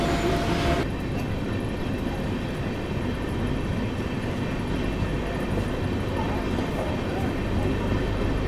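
The Falaknuma Superfast, fitted with new red coaches, pulls along platform 3 at Balasore railway station in Odisha with a steady, heavy rolling roar that fills the whole stretch.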